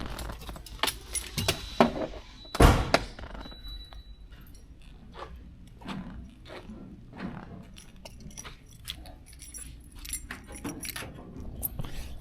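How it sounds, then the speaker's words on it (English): Keys jangle up close while the trunk of a 1974 Cadillac Eldorado is unlocked, with a louder metallic clunk around the third second followed by scattered small clicks and handling noises, with no talking. "Let me grab the keys for the trunk and to pop the hood."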